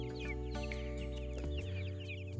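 Laying hens, a tame and friendly breed that lays reddish-brown eggs, cluck and call steadily close by on a poultry farm, with no talk over them.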